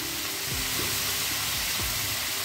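Taro being stir-fried in a pan, sizzling steadily and loudly throughout, with soft scraping and stirring strokes under the hiss and no talk.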